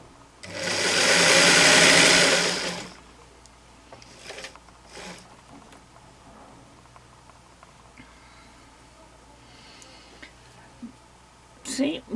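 A domestic sewing machine runs at a steady rapid whir for about two seconds while stitching elastic into a waistband, followed by quiet handling noises and faint clicks.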